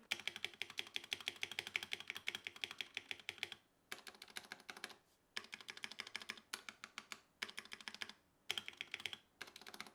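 Rapid typing on a Redragon K630 mechanical keyboard with stock stabilizers, close and crisp clacky keystrokes in quick bursts separated by short pauses, no voices.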